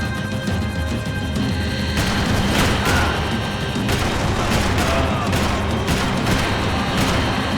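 Gunfire in the Max Payne 3 video game crackles in repeated sharp bursts spaced a second or so apart, loud over a dense, noisy action-scene background.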